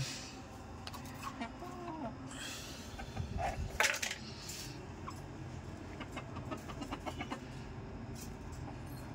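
Chickens cluck quietly while pecking feed and drinking from a feeder, with faint scattered clinks and taps against the container, distant and low in level.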